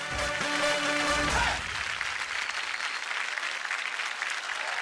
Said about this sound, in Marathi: करूया जोरदार टाळ्या